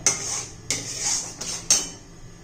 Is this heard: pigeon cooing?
no